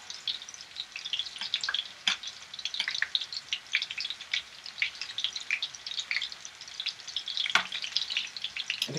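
Meatballs frying in hot oil, a continuous close crackling sizzle with scattered sharp pops throughout, no talk.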